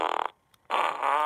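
Two loud, close farts with a short silent gap between, the first sputtering and rattly, the second longer and steadier with a buzzing tone.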